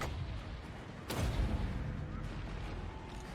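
Mortars and guns fire in the strategy game Total War: Warhammer 2 during a Clan Skryre battle, a dense rumbling barrage with one heavy boom standing out over continuous distant blasts and crackle.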